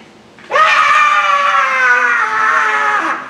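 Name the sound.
congregation shouting on command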